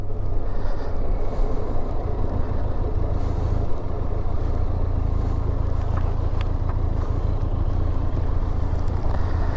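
Benelli TRK 502 motorcycle riding along a road on a calm afternoon, giving a steady, loud low engine drone mixed with rushing wind across the whole stretch, with no talk.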